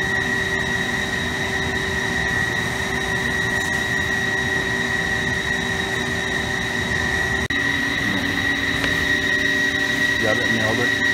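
A Haas ST 55 CNC lathe cuts a thread on a pipe connection at 425 RPM. It gives a steady mechanical hum with sustained whining tones throughout, and faint voices sound in the background.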